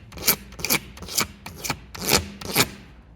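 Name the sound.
razor blade scraping gel coat off jet ski hull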